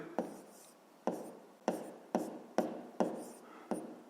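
Pen or chalk writing out a math solution, six or seven quick sharp strokes each fading in a short scratchy tail, close and fairly quiet, with no speech.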